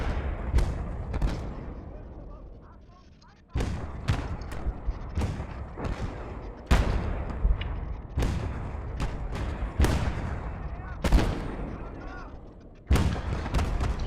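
Repeated heavy booms from a 120 mm mortar in the Gates of Hell: Ostfront war game, about a dozen sharp blasts at irregular intervals, each with a rumbling tail, over a dense battlefield din.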